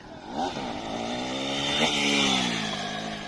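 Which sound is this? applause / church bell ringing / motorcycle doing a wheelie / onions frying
motorcycle doing a wheelie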